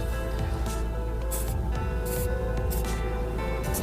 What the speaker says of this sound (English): you're basically just going to spray this on to the terminal